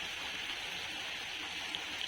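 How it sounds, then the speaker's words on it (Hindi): Steady rain falling outdoors, a dense even patter and hiss with no pauses, close and moderately loud throughout. "होती है ना बारिश"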